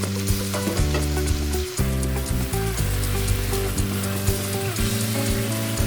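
Chicken sizzling and frying in a pan with garlic and red onion for Filipino chicken curry, a loud continuous crackle with utensil scrapes and stirring throughout.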